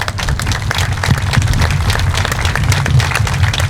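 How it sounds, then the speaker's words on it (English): Continuous audience applause at a farm's 50th anniversary recognition program, a dense, loud patter of many hands clapping steadily without pause. "Gary and Linda, would you mind standing so we can give you a round of applause?"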